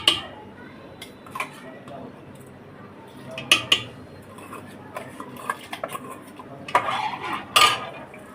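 Metal utensils clink and scrape against pots in a kitchen as rice is added to kheer, giving scattered sharp clatters and knocks over a quiet background while someone talks.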